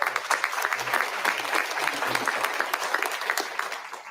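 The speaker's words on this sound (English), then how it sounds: "Let's give the gentleman a round of applause." Audience at a town hall meeting breaks into sustained, steady applause, a dense wash of many hands clapping at moderate distance for the full length with no voices on top.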